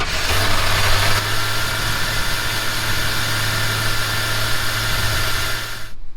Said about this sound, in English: we're actually going to start up Blackjack